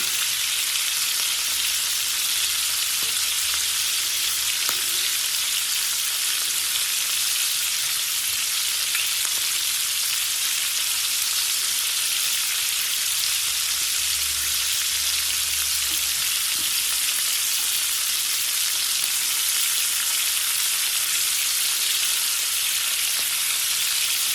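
Shrimp frying in a pan give off a steady, loud, continuous sizzle that holds unbroken from start to finish, with faint low clinks now and then and no voices.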